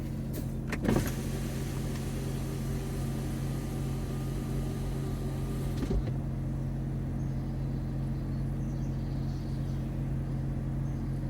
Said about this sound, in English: now we're gonna do windows down, idle, same spot